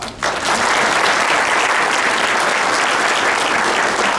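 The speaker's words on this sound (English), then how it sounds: "Huge round of applause." Loud audience applause at a community gathering bursts in suddenly and holds as a dense, close, continuous roar of many hands clapping.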